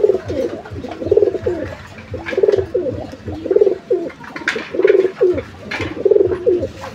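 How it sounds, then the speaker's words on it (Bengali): A Giribaz pigeon coos close by, giving about six rhythmic, throaty rolling coos in steady succession with no voices present. "এই যে দেখেন কবুতর।"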